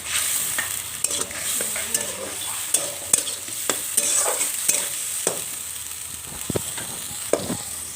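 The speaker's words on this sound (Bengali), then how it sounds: "তো মশলাটা আমি কষাবো।" Ground spices sizzle and fry in a hot pan with turmeric, chili powder, grated ginger and chopped tomato for cauliflower khichdi, with steady close frying hiss and repeated clanks of a spoon stirring and scraping against the pan.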